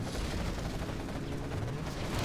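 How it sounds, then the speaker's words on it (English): A demo bike blowing up a quad cannon in a video game match, a dense roaring wash of explosion and gunfire noise sustained and loud throughout, no talk audible. "another demo bike blowing up a quad cannon"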